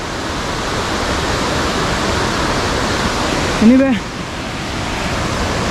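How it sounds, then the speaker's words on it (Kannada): A roadside waterfall near Munnar pours with a steady, broad rushing roar that fills the whole stretch. Someone briefly speaks over it partway through. "ಅಲ್ಲಿ ಮಾತ್ರ ನೀರು ಸಖತ್ತಾಗಿದೆ, ಫುಲ್ಲು ವೈಟ್ ಕಲರ್, ಮೇಲಿಂದ ಧುಮುಕ್ತಾ ಇದೆ ನೀರು"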